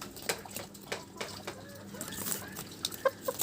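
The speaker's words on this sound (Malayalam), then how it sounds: "നമ്മുടെ കോഴികളവിടെ ആകാംക്ഷയോടെ കാത്തിരിക്കുക." Backyard chickens waiting to be fed at a rural home give soft, scattered clucks over a busy background, with a few sharper calls near the end.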